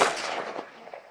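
A single gunshot fired at an outdoor shooting range, a sharp loud crack followed by a short decaying echo, with no voices.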